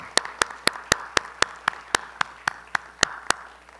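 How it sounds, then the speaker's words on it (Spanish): Sparse, evenly spaced hand claps sound from a small audience at a talk on Puerto Rican family heritage, about fourteen sharp individual claps in a steady rhythm over a quiet room. "vamos a darle un aplauso a la cultura puertorriqueña"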